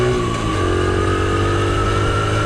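A Honda Trail CT70 motorcycle labours up a small woodland hill, its small engine droning loud and steady with a strained, sustained tone and no break in the sound.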